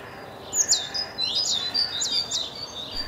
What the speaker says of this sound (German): Mit Lockrufen animierten die Meisen Eltern ihre Jungen,